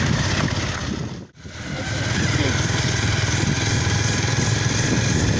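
Two motorcycles, a 220 cc and a 150 cc, drone steadily at close range, briefly dipping out for a moment before roaring back.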